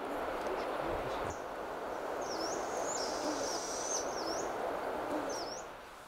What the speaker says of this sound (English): The chicks cried incessantly